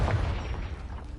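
A Confringo blasting spell goes off in Hogwarts Legacy, a deep booming burst up front that rolls into a low, rumbling tail over about a second.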